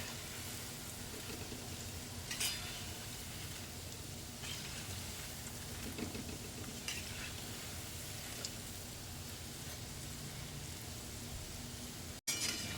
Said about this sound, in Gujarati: થોડા ગોલ્ડન બ્રાઉન થાય ત્યાં સુધી તળી લઈશું આપણે.